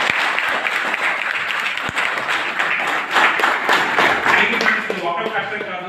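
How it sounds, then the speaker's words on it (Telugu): An audience at a business training session breaks into sustained, enthusiastic applause. The clapping is dense and steady throughout, with a voice speaking over it. "గట్టిగా క్లాప్స్."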